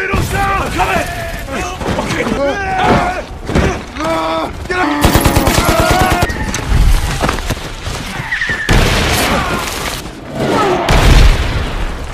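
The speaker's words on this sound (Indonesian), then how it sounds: "gumpalan asap-asap dimanfaatkan tentara Jepang sehingga dengan mudah menembaki rekan-rekan Budi satu persatu" Gunfire and explosions from a World War II battle film set in the Indo-Pacific, dense bursts of shots and booms under loud ongoing narration and voices, with a rapid machine-gun rattle midway.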